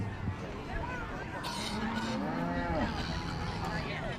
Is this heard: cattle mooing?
yes